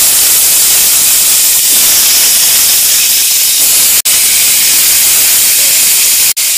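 Mango and tomato pieces for chutney hit hot oil and sizzle fiercely, a loud, dense, close hiss that continues steadily with two brief drop-outs.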